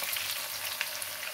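Red and white onion sizzles steadily in warm oil on a cooker, a continuous close frying hiss with small crackles and no talking.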